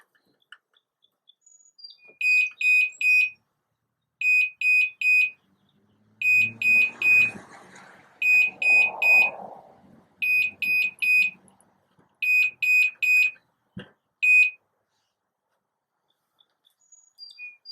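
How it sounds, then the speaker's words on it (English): A GM-434RTL wireless garage door monitor receiver emits clear, high-pitched electronic beeps in a repeated pattern of triplets, each group of three sharp tones spaced about two seconds apart, with faint rumbling from the garage door underneath. "I'm going to raise the garage door, and you will hear 3 beeps this time to indicate that it is in zone 3."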